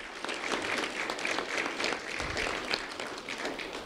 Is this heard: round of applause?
yes